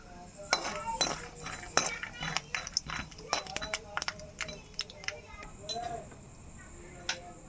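Peanuts roasting in a pan over a low flame, with sparse light clinks and ticks of the nuts and a stirring utensil against the metal while a person talks quietly.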